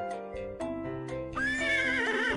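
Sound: horse neighing in Pajama Sam 4 video game

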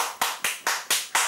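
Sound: a man clapping his hands

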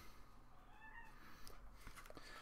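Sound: cat meowing

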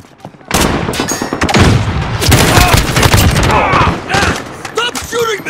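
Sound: gunfire in Call of Duty: Modern Warfare video game

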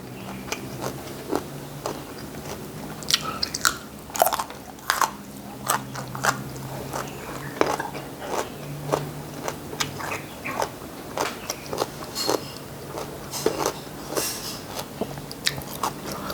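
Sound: chewing and crunching on fresh mango

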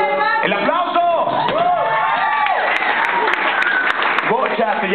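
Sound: audience applause before a kindergarten band performance

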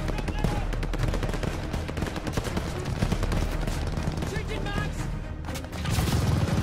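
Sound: tower-mounted machine gun firing in Call of Duty Vanguard video game

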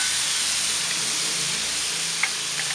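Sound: marinade sizzling on paprika pork chops on a plancha

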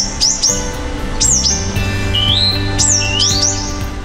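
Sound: eastern bristlebird call

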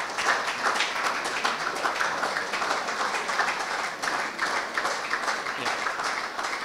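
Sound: applause from players at a prize giving

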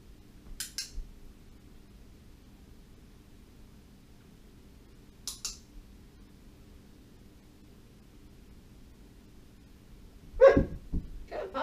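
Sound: puppy barking

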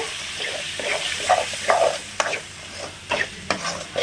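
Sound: stirring and frying manathakkali kuzhambu ingredients in pan

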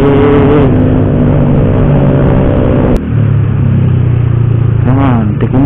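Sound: motorcycle engine revving

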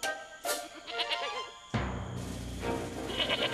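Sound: goat bleating

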